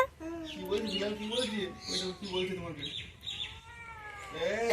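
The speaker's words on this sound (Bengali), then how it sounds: "ম্যাও ম্যাও আওয়াজ শুনে চলে এসেছে" Several drawn-out, rising and falling meows from a nearby cat, repeated across the stretch, mixed with some soft voice sounds.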